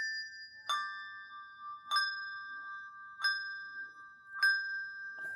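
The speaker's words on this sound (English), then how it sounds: "If you wanted to ring, say, the pinky bell and the middle bell, you can do sort of a forward and a twist." Handbells rung six-in-hand sound four clear, evenly spaced strikes, each a bright sustained ring of two bells together that lingers until the next, close and alone.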